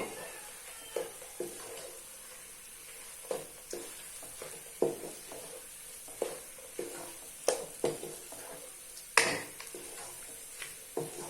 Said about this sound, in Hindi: अब हम इसमें डाल देंगे ये नट्स। इसको भी हम अच्छे से मिक्स कर लेंगे।